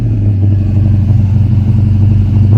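A 1971 Hemi Charger's V8 engine rumbles loud and close at a car show, a deep steady growl with a fast pulsing throb and no speech over it.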